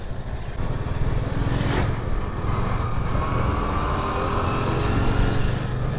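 A scooter carrying four riders passes on the way to Marble Dada, a continuous close engine drone that fills the whole stretch with rough, wind-buffeted noise.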